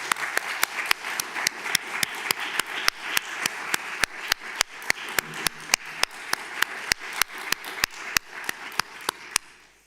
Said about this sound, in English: if you don't mind joining me in another big round of applause for Ufuk